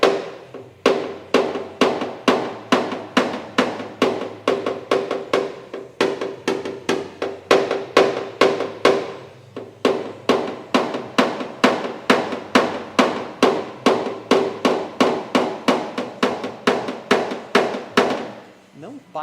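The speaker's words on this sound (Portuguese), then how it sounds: "Vou pegar o martelo." A hammer taps out a dent in car bodywork, striking quickly and steadily with crisp, close metallic knocks at about two to three per second, pausing briefly midway before the tapping resumes.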